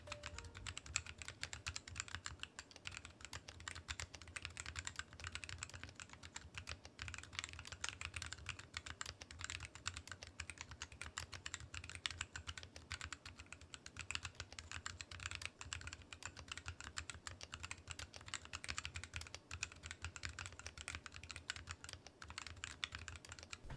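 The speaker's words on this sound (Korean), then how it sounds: "자, 이렇게 어느 정도 적응기를 거쳐서 타건을 들려드렸는데요." Typing on an ErgoDox 76 Hot Dox V2 split ergonomic keyboard with lubricated Kailh Speed Copper switches, a fast, continuous patter of light keystrokes heard alone and fairly quiet for the whole stretch.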